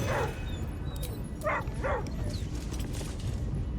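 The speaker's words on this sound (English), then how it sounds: "the three hounds, the ghosts of the three hounds, are pissed that we're looting" Ghostly hounds in Baldur's Gate III bark in three short, distinct yips over a dense, noisy game soundscape, mid-distance and moderately loud.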